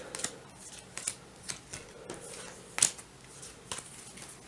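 Cards being drawn by hand in the Bad Medicine board game, seven taken in turn. Quiet, close, crisp snaps and flicks spaced through the clip with soft rustling between them.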